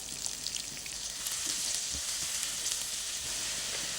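White parts of green onion soften in butter and cooking oil over low heat, giving a soft, even, continuous sizzle with faint crackles, quiet and close, with no voices.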